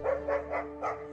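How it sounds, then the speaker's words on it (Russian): A dog barks four times in a quick, rhythmic burst at a bear, fairly close, with a low hum underneath. "Посмотрите, как собака отгоняет слишком наглого медведя."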